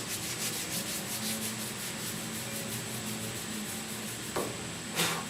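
Block sanding of primer surfacer on a 1969 Chevrolet C10 roof, a steady rhythmic rasping of paper strokes close by, with a couple of sharper knocks near the end, no talking.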